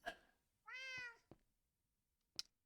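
A cat in Minecraft gives one drawn-out meow, clear and close, set between a few short clicks and taps in an otherwise quiet scene.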